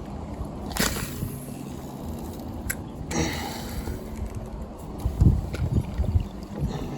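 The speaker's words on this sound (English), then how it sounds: "this wind really has a tendency of making things difficult when you're on a" Wind buffets the microphone while kayaking on the Willamette River, a steady rough rumble with gusting surges and a few sharper knocks and splashes, no talking.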